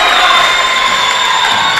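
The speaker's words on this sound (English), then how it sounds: "Listen to this crowd." Basketball crowd of Labette County fans cheering loudly in a gym, a dense sustained roar with shrill whistle-like tones running across the whole stretch, no pause.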